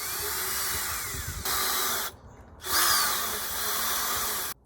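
Power drill driving screws to fix a Logitech Circle View doorbell mount to a wall, a steady loud whirring run that stops briefly and starts again, then cuts off at the end, with no talking.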